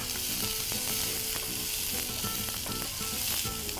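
Onion fries in hot oil in a pan with a loud, dense, continuous sizzle up close, mixed with light stirring scrapes throughout and no speech.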